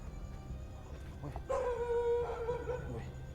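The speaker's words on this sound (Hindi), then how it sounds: "जैसे ही हम आगे हैं ये कुत्ता भौंकना शुरू हो गया" A dog lets out a drawn-out howling whine in the middle, with a few short yips around it, over quiet background noise.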